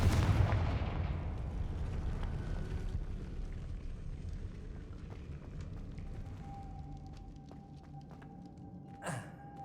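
A Confringo fire spell blasts in Hogwarts Legacy, opening with a loud booming explosion that decays into a long rumbling tail, followed by softer magical chimes and a brief whoosh near the end.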